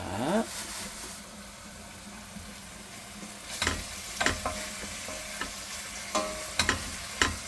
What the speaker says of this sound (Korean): 예, 조금 볶다가 이렇게 고춧가루도 좀 넣고 예, 볶겠습니다.